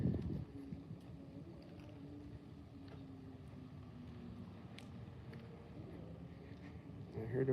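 A truck engine rumbles steadily at moderate distance as it drives past, its low drone slowly shifting in pitch, with some wind noise and a louder swell at the start and end.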